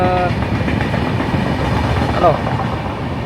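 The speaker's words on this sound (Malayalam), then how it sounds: "കണ്ടോ നമ്മുടെ ബാക്കിലോട്ട് കണ്ടോ ട്രെയിൻ പോകുന്നുണ്ടോ കണ്ടോ" A train rumbles steadily past nearby, with a continuous low roar and faint rhythmic clatter, and a brief horn-like tone near the start.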